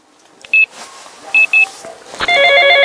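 Short electronic keypad tones, a couple of isolated beeps followed by a quick pair, as a phone number is dialed, then a steady multi-tone ringing sound begins close and fairly loud.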